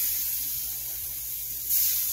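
Sea robin fillets sizzle in a little melted butter in a pan, a steady close hiss running throughout that swells louder near the end as the fish settles in.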